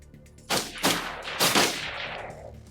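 Gunfire from a weapon system in the game Project: EXODUS, a few sharp loud bursts of shots in quick succession followed by a trailing echo, with no talking.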